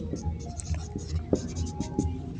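Pen writing on paper while working through a school geometry problem, close soft scratching strokes in short irregular bursts, with faint murmuring in the background.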